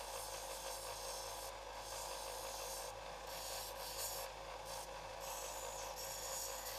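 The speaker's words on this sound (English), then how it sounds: "the bone itself gets hot as you are working it on the sander" Bone needle for nalbinding being ground on a power sander, a steady abrasive rasp over motor hum that briefly lightens and dips a few times as the piece is pressed and lifted.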